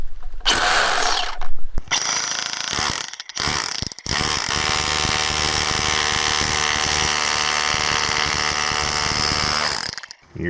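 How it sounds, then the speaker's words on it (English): A small battery powered chisel hammers at rock holding garnets, starting in short bursts and then running in one steady loud buzzing rattle for several seconds before cutting off. "bring out the little battery powered chisel and see if I can maybe get some bigger pieces"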